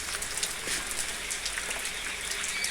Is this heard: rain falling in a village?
yes